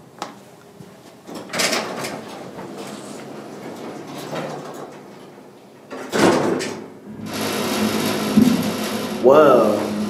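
Mechanical clunks and a sliding rumble, then a steady motorized hum with a brief whine, as a Westinghouse hydraulic elevator car runs at Tulane University's Dixon Hall Annex; a voice speaks in between.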